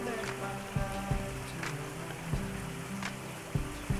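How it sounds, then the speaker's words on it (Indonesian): Light rain patters steadily on a surface outdoors beside a cooking fire, soft continuous drizzle with a few sharper drips and knocks close by, no voices. "Kita ditemenin ini ya, hujan tipis-tipis syahdu."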